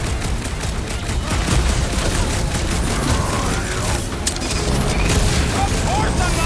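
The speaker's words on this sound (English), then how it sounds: "Feels like I've been shooting that big bot for hours!" Heavy gunfire pours into a big robot in Marvel's Guardians of the Galaxy, a loud, unbroken fusillade of shots and booming impacts with clanking mechanical noise and character voices layered over the barrage.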